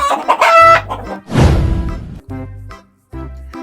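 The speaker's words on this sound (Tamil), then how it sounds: "கோழி எப்படி சத்தம் போடும்னு தெரியுமா உங்களுக்கு?" Chicken clucking and squawking up close, in several loud, strained bursts separated by short pauses.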